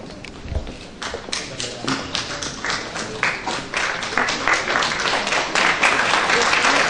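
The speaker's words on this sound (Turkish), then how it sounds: "Evet, alkışlarımız oluyor." An audience at a poetry festival ceremony in Cappadocia applauds, with irregular claps building into dense, louder applause, accompanied by a few thumps and taps nearby.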